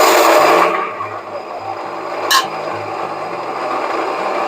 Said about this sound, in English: getting ready to start the grain mill to grind up the spelt berries